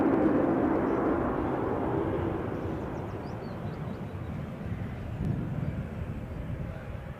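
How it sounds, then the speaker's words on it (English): A Jersey-bound passenger plane on its takeoff roll at Newcastle airport gives a broad, roaring engine rush that is loud at first, eases slightly, then swells again near the end, with wind buffeting the microphone. "it looks like the Jersey bound plane is on the roll"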